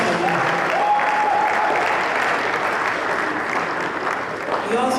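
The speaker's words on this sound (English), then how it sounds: "A round of applause for him." An audience at a mechanical engineering conference in Ilorin applauds with a sustained, dense burst of clapping that fills the hall for several seconds and fades slightly near the end.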